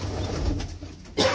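Cooing from fancy pigeons, including a young White Pomeranian pouter, with low steady coos running through most of the short stretch and a brief louder rustle or flutter near the end.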